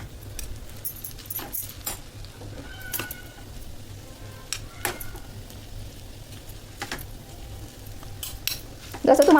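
Chowmein noodles and spices being stirred and mixed in a pan in a home kitchen, with repeated close clinks and scrapes of a utensil against metal over a soft background sizzle, and a louder clatter at the end.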